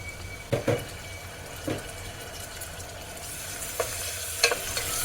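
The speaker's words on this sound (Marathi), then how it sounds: "तो आपण भाजून घेऊया म्हणजे हा टोमॅटो थोडासा मॅश होईपर्यंत आपल्याला परतून घ्यायचा आहे" Tomato and onion are stirred and sautéed in a pan for Puneri misal, a soft steady sizzle broken by a few sharp spatula scrapes and taps against the pan.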